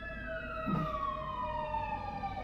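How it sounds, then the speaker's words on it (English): A siren wails steadily, its tone sliding gradually downward as it passes, over a constant low rumble of traffic. "just wait for the sirens to pass"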